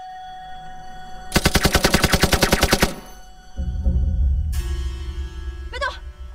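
A rapid burst of automatic gunfire in a wartime drama scene, about twenty loud, evenly spaced shots over roughly one and a half seconds, followed by a low rumble and other effects.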